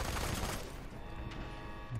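Gunfire in the F.E.A.R. 3 video game, a short burst of shots at the start of the clip that trails off into a quieter game background.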